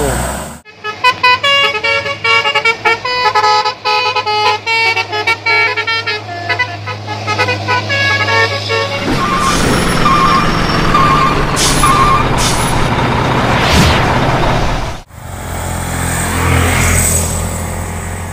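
A truck hauling a trailer loaded with a bulldozer: loud close engine rumble with air-brake hisses and horn toots, then a long rising roar as it passes, with voices heard over it.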